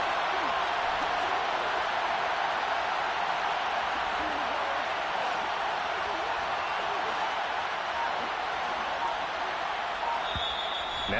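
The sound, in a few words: football stadium crowd cheering for Bills game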